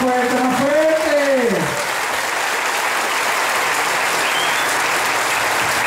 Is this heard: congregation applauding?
yes